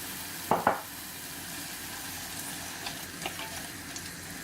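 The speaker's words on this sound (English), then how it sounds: "all you have to do is add in your frozen veg. This cooks really quickly." Frozen vegetables dropped into a hot pan for savoury porridge, a couple of sharp clatters then a steady crackling sizzle with light stirring scrapes.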